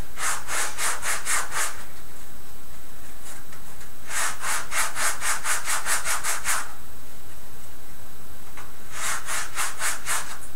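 Sandpaper scrubs back and forth in three bursts of quick, rhythmic strokes, loud and close, separated by short quiet gaps.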